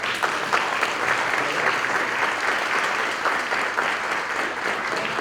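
An audience applauds steadily to welcome someone speaker, a dense, continuous wash of many hands clapping at an even level for about five seconds with no one speaking over it.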